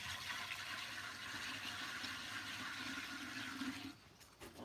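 Water gushes steadily into a T-fal pressure cooker holding a trivet, a constant rushing pour that fades abruptly near the end, with no talking.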